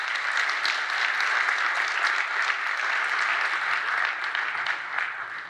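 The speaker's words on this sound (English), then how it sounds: "Give him a big round of applause." A church audience gives Paul a big round of applause, a dense, even wash of many hands clapping that holds steady and full for several seconds before easing slightly at the end.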